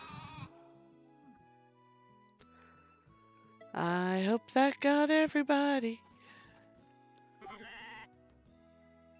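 Sheep bleat in a loud, wavering burst of several overlapping calls in the farming video game Story of Seasons: A Wonderful Life, set apart from a man's speech at the start and a shorter bleat near the end.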